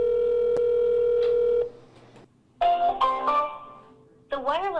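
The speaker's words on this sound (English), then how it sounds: "The phone rang 7 times before we were sent to voicemail." A telephone call in progress, opening with a steady electronic tone and ringback, then a pause followed by an automated voice speaking over tonal prompts.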